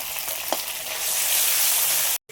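Prawn head paste, dal and spices sautéing in a pan, a steady sizzling hiss that swells louder midway with a faint stir scrape near the start, then cuts off abruptly.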